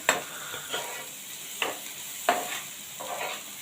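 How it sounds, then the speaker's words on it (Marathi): Onion and tomato sauté in oil while a spatula stirs them in a few distinct scrapes and taps, spaced irregularly over a quiet, close sizzle. "आता हे चांगलं आपण मिक्स करून घेऊया परतून घेऊया इथे आपला कांदा आणि टोमॅटो चांगला भाजला गेलाय तेलावर"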